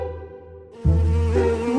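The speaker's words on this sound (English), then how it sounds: "Do you hear that buzzing sound?" A bee buzzes in a messy room in a children's cartoon, a sustained droning hum that comes in suddenly and stays loud and close over soft music.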